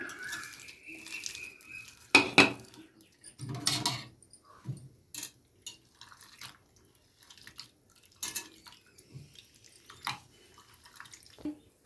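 Sliced onions being mixed by hand in a metal dish for majjiga charu, a buttermilk curry, giving a run of short, light clinks, scrapes and soft wet rustles with brief pauses, fairly close and with no talking.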